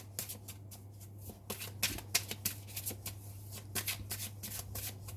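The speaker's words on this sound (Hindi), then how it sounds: "थोड़े से और कार्ड्स निकालते हैं और डिटेल में जानते हैं" Tarot cards are drawn and shuffled from the deck, producing a quick series of crisp riffling flicks and soft slaps close by, in irregular bursts.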